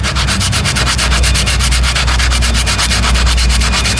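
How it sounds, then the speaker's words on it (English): Sandpaper scrubbed by hand over curb rash on a car wheel, a loud, close, steady rasping with quick regular back-and-forth strokes that continue without a break and with no talking. "we're going to use our sandpaper and just hit the spot that's damaged until you get a nice smooth finish"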